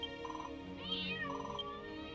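A cat meows in a monster-collecting video game, giving two or three clear, close mews in quick succession over a steady background of game music.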